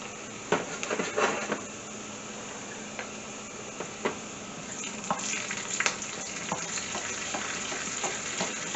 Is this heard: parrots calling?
no